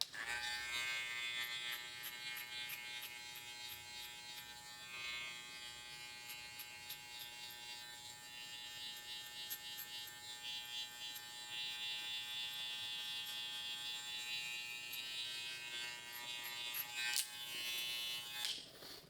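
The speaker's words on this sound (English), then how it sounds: "So with my clipper on, now that I already have the 1 on, I'm gonna go ahead and come into this haircut" An electric hair clipper buzzes steadily and close up while cutting a mid drop fade, its whine rising and dipping slightly as it moves through the hair, with no talk.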